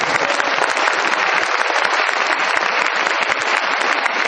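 An audience at a motivational talk breaks into sustained applause. Dense, even clapping from many hands continues without pause, loud and close, with no speech over it.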